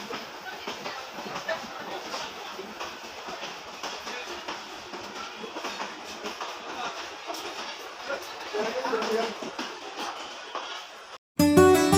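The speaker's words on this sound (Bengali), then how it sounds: "ট্রেনটা চলে গেল" A train passes through Gaibandha railway station at night, giving a steady, fairly loud rumble with a faint rhythmic clatter of wheels and wagons. The sound holds for most of the stretch, then ends in an abrupt cut.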